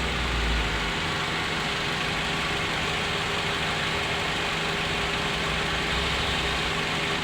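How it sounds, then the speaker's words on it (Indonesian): A four-cylinder Toyota/Daihatsu engine (Terios, Avanza, Rush, Xenia or Gran Max type) idles roughly and shakes even after all four ignition coils were replaced, giving a steady, close, low rumble with a faint uneven throb and no talking. "Untuk koil sudah diganti semua, tapi mesinnya masih tetap goyang ya seperti ini."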